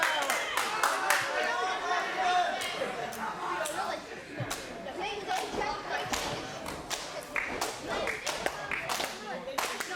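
A wrestling crowd claps at the bell for a World League Wrestling Showdown match. Scattered, uneven claps and thuds sound close and steady for the whole stretch, with crowd murmur and a commentator talking over them.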